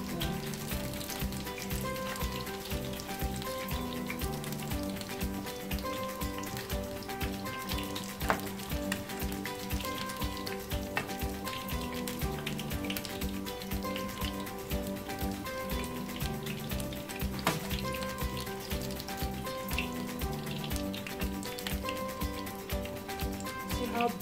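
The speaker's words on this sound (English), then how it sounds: "It's finished frying" Nigerian akara bean fritters sizzle in hot oil, a continuous crackling fry with popping bubbles that holds steady throughout, with no voices.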